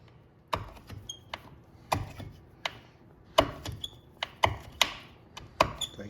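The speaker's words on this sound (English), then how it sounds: "Tightening up that Allen screw." A ratchet tightens an Allen screw on the front brake of a Yamaha Kodiak 700 ATV, giving a series of sharp, close clicks in irregular bursts, with no voices.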